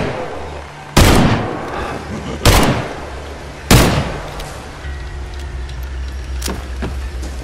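Gunshots in Evil Dead: The Game, with three loud, sharp, widely spaced shots over a low background rumble, followed by a few fainter pops.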